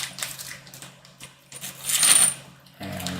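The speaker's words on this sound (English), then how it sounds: "let me take here the small plastic bag, because this one is broken, and put them in there" Small metal PC-assembly screws clatter into a small plastic bag, a scatter of light tinkling clicks and rustles at close range, with a brighter jingle partway through.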